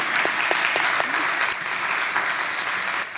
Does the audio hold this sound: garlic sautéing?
no